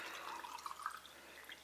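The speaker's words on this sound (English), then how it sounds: "Now we're going to add the water." Spring water poured into jars makes a faint, continuous trickling and splashing with small bright drips, heard alone and quietly throughout.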